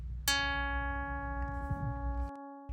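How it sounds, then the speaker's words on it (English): Synthesized sonification tones for an accessible node-link diagram: a sustained French-horn-like note with a stack of steady harmonics, starting with a sharp onset and holding for about two seconds, near and alone, without speech. "The audio design includes notes represented by a French horn sound, with the number of connections affecting the pitch"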